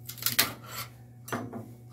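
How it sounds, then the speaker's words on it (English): A freshly printed plastic 3D-printed Hufflepuff crest being slowly worked off the build plate of a MakerBot printer, giving a cluster of small, close crackles and clicks, several at the start and a couple more toward the end, over a steady low hum. "slowly, carefully work it off. There. Lots of little cracking sounds."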